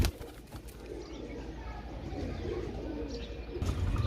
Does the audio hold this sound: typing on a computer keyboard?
no